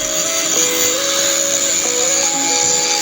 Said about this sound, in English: Spring is finishing works done by hand grinder.